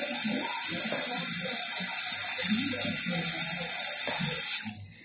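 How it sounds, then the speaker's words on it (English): Water from a sink tap runs steadily and loudly while a face is washed, splashing softly beneath the hiss until the flow is shut off near the end. "So, hey guys, let's wash my face."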